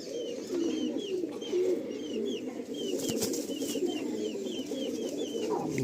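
Madrasi pigeons, including a white male, coo continuously in soft rolling phrases, with higher chirps from other birds scattered above and no talking.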